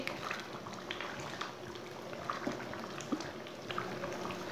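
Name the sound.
masoor dal and potatoes simmering while stirred with a spoon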